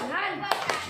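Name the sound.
applause for group 3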